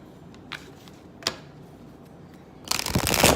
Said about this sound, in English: this is my first time actually shuffling them.